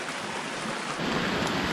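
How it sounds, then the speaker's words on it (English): Heavy rain pours down on a wild campsite, a dense steady hiss of drops that swells a little louder partway through, with no voices. "it started to rain quite heavily"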